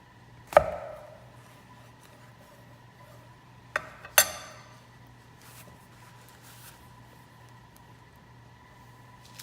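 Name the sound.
knife cutting a tomato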